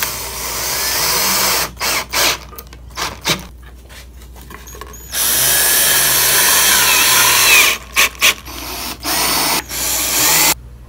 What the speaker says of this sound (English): Now I'm going to put them together with some screws